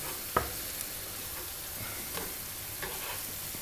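Tomato paste fries quietly in a pan, a faint continuous sizzle with a sharp utensil tap near the start and a few soft stirring scrapes, no voices.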